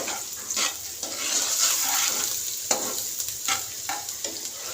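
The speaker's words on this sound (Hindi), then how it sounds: "इसी में हम अदरक और लहसुन का पेस्ट जो है इसी ऑयल में हम बनाएंगे।" Ginger-garlic paste frying in oil in a kadhai, with a continuous bright sizzle interrupted by several stirring scrapes; close and fairly loud, with no talking.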